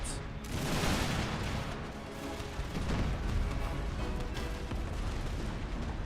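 Battlefield gunfire in Empire Total War, with artillery and musket volleys merging into a dense, continuous roar of overlapping shots and booms that opens with a sharp crack and holds steady at a moderate distance.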